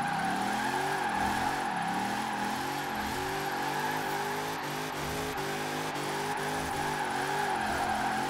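In Forza Horizon 4, a Mercedes X-Class pickup drifts with its engine revving hard and continuously, the pitch rising and falling as it slides, and no voices are heard.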